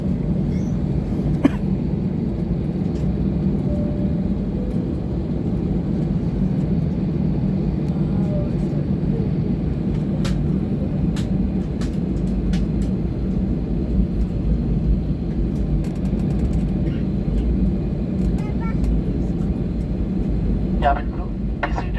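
An airliner rolls for takeoff from Bengaluru's Kempegowda Airport bound for Delhi, heard from inside the cabin as a loud, constant low engine roar that fills the whole stretch, with a few faint clicks and knocks on top.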